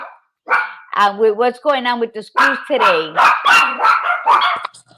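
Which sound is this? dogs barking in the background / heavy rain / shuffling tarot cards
dogs barking in the background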